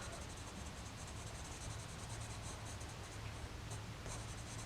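Pencil shading on paper while drawing a cyclamen flower, a steady soft scratchy rasp of graphite strokes, close and faint, with no talking.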